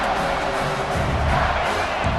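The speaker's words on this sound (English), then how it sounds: "Big 3rd down as the crowd gets behind this defense." A video game football stadium crowd roaring on a big third down, a dense continuous wash of cheering voices that swells slightly midway.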